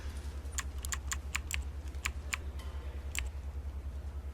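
Someone types on a computer keyboard in a quick, uneven burst of sharp key clicks, then pauses, then adds a couple more taps, all close up over a steady low electrical hum.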